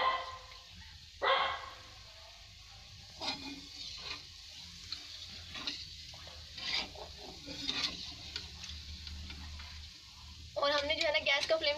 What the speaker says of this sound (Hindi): हमें लो फ्लेम पे जो है हम इन रसगुल्लों को फ्राई कर रहे हैं